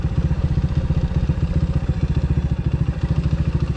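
A motorcycle engine idles close by with a loud, rhythmic chugging pulse that repeats evenly for the whole stretch.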